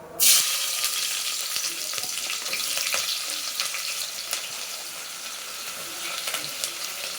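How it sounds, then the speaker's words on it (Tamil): Onions frying in a pan until golden brown give off a steady, close sizzle with sharp crackles and pops throughout, and no one speaks. "வெங்காயத்தை வந்து பொன்னிறமாக வறுக்கணும்."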